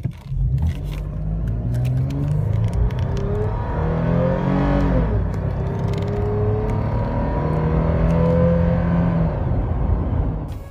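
The V6 engine of a 2010-23 Toyota 4Runner revs up and down repeatedly, rising and falling in pitch, loud and close with a rough, throaty growl.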